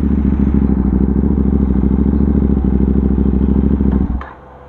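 A KTM Duke 790 engine idles with a steady, loud twin-cylinder chug, then cuts out abruptly near the end as the side stand kill switch shuts it off, leaving a low quiet tail.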